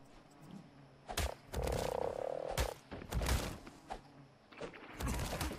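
A holiday frog creature in the video game ARK croaks loudly and repeatedly in bursts, mixed with heavy thuds and impact noises from combat, close and prominent.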